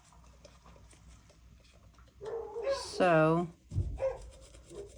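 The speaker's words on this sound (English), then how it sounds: "Sorry about my dogs barking." A dog barks a few times close by, with a higher yelp or whine mixed in, and a person speaks briefly.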